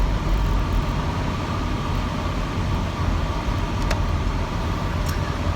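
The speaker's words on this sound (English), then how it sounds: "I'm stuck behind a bus in tons of traffic" Dense road traffic on Morse Road while stuck behind a bus, heard as a continuous broadband rumble of vehicles with a few faint high clicks and squeaks and no talking.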